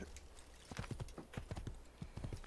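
Horse hooves clip-clopping in a steady trotting rhythm during a ride in Assassin's Creed, moderately close and fairly quiet, with no talk over them.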